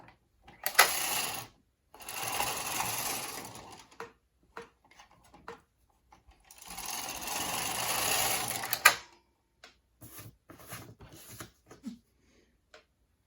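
Bond knitting machine carriage running two rows of yarn, two long whirring mechanical sweeps of close clattering, each ending in a sharp knock, followed by scattered small clicks and taps.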